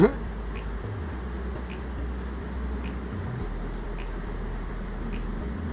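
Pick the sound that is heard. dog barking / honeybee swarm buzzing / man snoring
honeybee swarm buzzing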